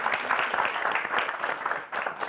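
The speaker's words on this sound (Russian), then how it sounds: "Давайте поприветствуем его аплодисментами." A concert audience in Gomel claps to welcome a guest: a dense, continuous wash of applause from a full hall, loud and unbroken for the whole short stretch.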